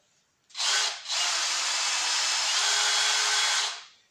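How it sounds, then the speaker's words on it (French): A power drill whirs as it bores a small diagonal hole into a wooden plate, one brief burst, a short pause, then a steady loud high whine for about three seconds before winding down; no talking. "avec le même foret, je vais percer un petit trou sur le côté ici, en diagonale"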